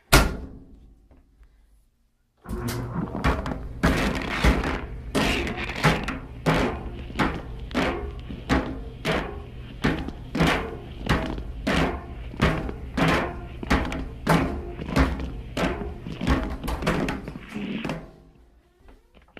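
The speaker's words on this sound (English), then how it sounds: "so let's try out the dryer" A wet phone tumbles inside a running household clothes dryer, thumping against the drum in a steady rhythm of loud, regular knocks that repeats for the whole run after the machine starts.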